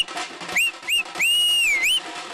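A person whistles to a beat on a TV debate show: a few short rising notes, then a long sustained tone that bends at the end. The whistling is loud and close over busy background music.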